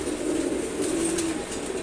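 A pair of khaki pigeons coos in a steady, low, throaty drone, close and moderately loud, with no talking over it.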